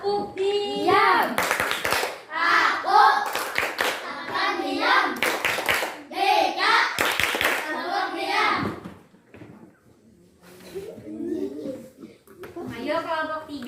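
Children in a classroom group activity perform a rhythmic clapping routine, with bursts of sharp claps alternating with chanted and spoken children's voices, loud and close, followed by a quieter stretch of murmuring.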